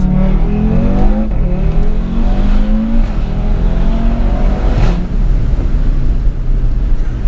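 A 2018 Audi RS3 with a 510 bhp engine accelerating hard from inside the car, a loud, steady roar with rising engine pitch through the gears and a brief shift break near the middle, no talk.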